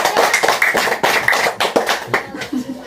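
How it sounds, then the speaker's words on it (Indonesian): Children clapping their hands in a classroom lesson, a rhythmic series of sharp claps in uneven bursts, fairly close and clear, with a voice briefly audible near the end. "Tepuk tangan dulu untuk kita"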